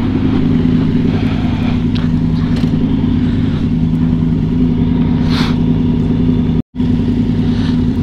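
A motorcycle engine idles and revs loudly up close, a steady low rumble throughout with a brief cutout near the end.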